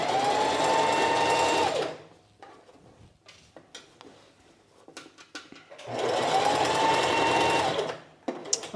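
A sewing machine runs in two bursts of steady whirring stitching while basting an invisible zipper, with a quiet pause of light handling clicks between the runs.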